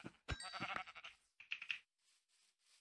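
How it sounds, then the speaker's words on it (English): Minecraft sheep bleating in-game, a couple of short nasal bleats up close, followed by faint quiet game sounds. "Sheep."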